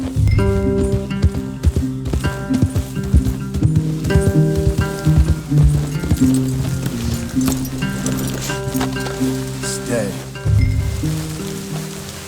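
Horses in the Red Dead Redemption 2 video game walk with steady hoof clip-clops under rain and ambient game music, while characters talk over the scene.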